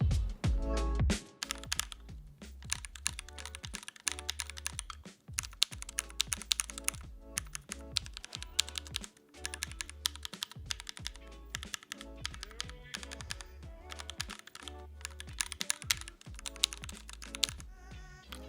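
Rapid, steady typing on a custom gasket-mount Tofu 65 mechanical keyboard with foam mod, a continuous clatter of deep, muted keystrokes with a few heavier thocks, close and alone.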